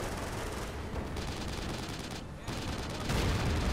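Anti-tank gun fire in the modern-warfare strategy game CoH: Modern Combat, sounding as dense, continuous battle noise with overlapping shots and blasts, loud throughout and swelling near the end.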